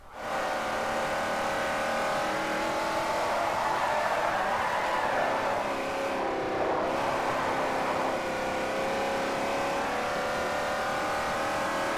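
Forza Horizon 4 race car engines droning at high revs, a steady loud whine with a brief dip mid-run as one car overtakes, no voices.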